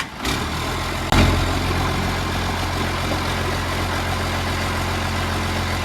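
A Cummins engine in a 2-ton truck idles loud and near, starting with a sharp knock and then settling into a steady, even rumble, with no talking.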